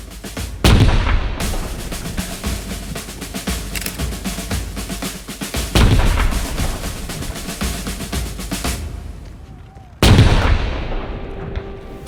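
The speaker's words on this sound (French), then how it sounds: "saluée par une salve de 21 coups de canon" Three heavy cannon blasts from a 21-gun salute at the Citadelle of Québec, spaced several seconds apart, each a sharp loud boom followed by a long rolling echo that fades.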